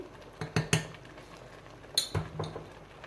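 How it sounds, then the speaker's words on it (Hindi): A spoon clinks against a metal pot or bowl while a tablespoon of sugar is added to khoya malai badami kulfi mix, giving a few sharp taps in two short clusters. "मैं 1 टेबल स्पून इसके अंदर चीनी ऐड कर रही हूँ"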